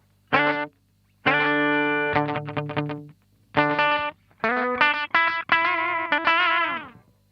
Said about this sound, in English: that would be probably very useful in the kind of slapback thing if you had a slower sort of slapback sound